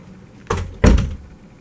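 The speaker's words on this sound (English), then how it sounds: "Drew, can you close the door?" An indoor door is pushed shut, giving a brief swish followed by a solid thud as it closes, close and clear against a quiet room.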